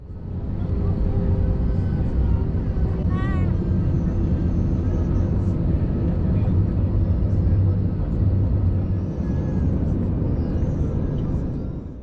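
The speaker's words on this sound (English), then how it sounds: "Now please enjoy this unedited takeoff." An easyJet airliner taxis and takes off, its engines a loud, steady, continuous roar with a brief rising whine partway through.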